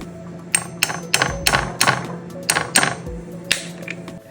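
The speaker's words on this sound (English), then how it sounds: "I used a hammer and nail and gently tapped 3 holes in each lid." Quick sharp taps of a hammer on a nail punching holes in a plastic lid, about a dozen light knocks in an uneven rhythm, close and crisp.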